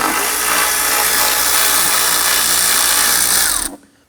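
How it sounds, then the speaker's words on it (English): A power driver with a socket spinning out an 8mm bolt on the air intake of a 2003–2014 Volvo XC90, a loud, close, continuous whirring buzz that cuts off abruptly near the end. "Using our socket and our driver, we're going to loosen and remove this."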